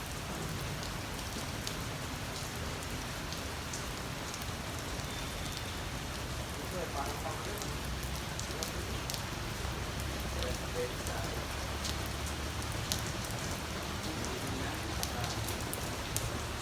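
Steady rain pours over an outdoor tennis court at the Bulacan Sports Complex, a dense, even hiss of drops on hard surfaces that runs unbroken throughout.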